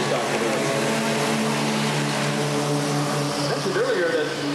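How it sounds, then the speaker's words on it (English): Mini stock race cars running stock exhaust systems roar through a main event at Redwood Acres Raceway, a steady droning engine chorus that continues under a commentator's voice. "these cars do run a stock exhaust system as well, so you can see they don't have quite the sound of your other division of race cars"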